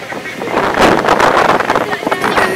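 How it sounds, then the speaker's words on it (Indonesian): Strong wind blowing at a high outdoor viewpoint, a loud continuous rush buffeting the microphone with gusty swells throughout. "Anginnya juga bergeser."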